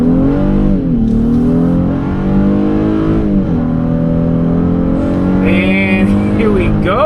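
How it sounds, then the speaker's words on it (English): A 2025 Honda Ridgeline with a naturally aspirated V6 accelerates hard in sports mode, coming off mud onto pavement; the engine revs climb steadily and dip at each gear shift, loud and close from inside the cab. "You've got to love the sound of that naturally aspirated V6"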